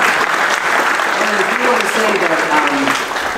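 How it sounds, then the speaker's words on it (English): Audience applause in a college lecture hall, a steady clapping wash heard under a voice that talks through the middle and later part of the applause. "Go ahead and applaud that."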